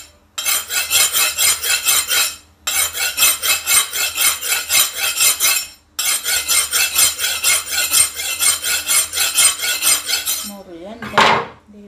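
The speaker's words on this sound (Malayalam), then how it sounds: "ഇനി കട്ട് ചെയ്യാനുള്ളത് ഈ കറുത്ത ആവോലി കട്ട് ചെയ്യാം കട്ട് ചെയ്യാൻ നല്ല കത്തിയും വേണം നല്ല മൂർച്ചയും വേണം" A sharp knife works on a black pomfret fish in three long bursts of steady scraping and rasping, each a couple of seconds or more, with short pauses between and a brief clatter at the end.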